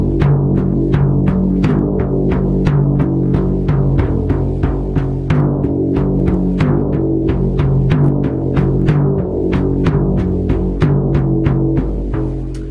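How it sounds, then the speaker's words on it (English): A Native American shaman drum struck in a steady, even 1-1 honor beat, each booming hit ringing on with a low resonant tone, played close and loud with no talk. "So the honor beat is what I primarily use, which is just this 1-1 beat."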